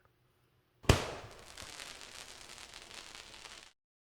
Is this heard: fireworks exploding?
yes